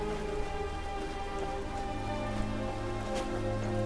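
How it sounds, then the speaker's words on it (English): Steady, dense rain in the video game Skyrim, falling outdoors over the open land of Tamriel, an even hiss of drops on surfaces that runs unbroken with no voices. "It's raining, which I love the way the rain, the weather, it's great."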